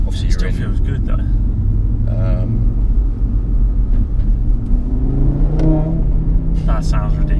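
A used Audi RS3's engine revs and pulls hard under acceleration, a loud continuous rumble rising in pitch from inside the car, with people talking over it throughout.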